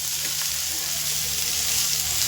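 Onions frying in oil for a spicy Maharashtrian mutton curry, a steady, close, dense sizzle that holds at an even loudness without a break and with no voices.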